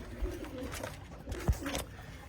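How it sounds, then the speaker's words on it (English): Pet pigeons coo softly in an aviary shared with quail, low murmuring calls under faint rustling and background noise, with no talking. "the pigeons also eat out of here as well"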